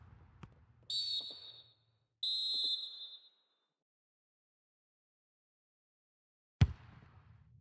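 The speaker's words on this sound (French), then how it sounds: "c'est donc la fin de ce match sifflé à l'instant même par l'arbitre" Referee's whistle in the FIFA 21 video game ending a match, two sustained shrill blasts about a second each, clear and alone, followed by a sharp bang near the end.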